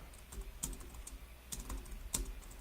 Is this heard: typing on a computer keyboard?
yes